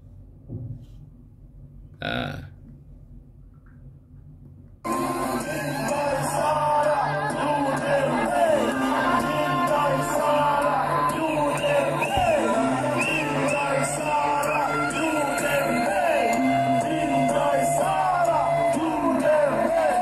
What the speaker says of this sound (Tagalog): ito mga nagrarally. Pakinggan natin yung mga sinisigaw-sigaw nila dito po.